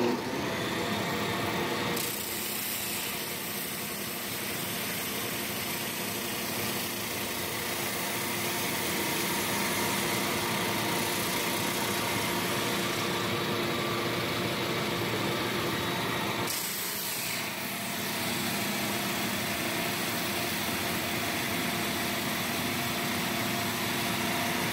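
A Flatmaster drum sander with 80 grit flattening a wood board makes a continuous loud motor drone with a steady abrasive rush, running without pause for the whole stretch, with a couple of brief shifts in tone as passes change.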